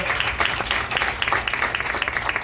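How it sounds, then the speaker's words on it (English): A roomful of district residents gives steady, fairly loud applause for a state senator at a community gathering, with many hands clapping evenly and no talk over it. "Another round of applause for Senator Cordell Clear."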